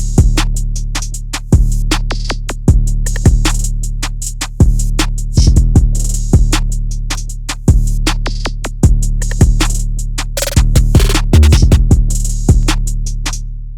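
A loud, punchy trap beat made in FL Studio layers booming 808 bass and kicks under sharp snares and rattling hi-hats with rolls, percussion hits and a rip, driving in a steady repeating groove with no voices.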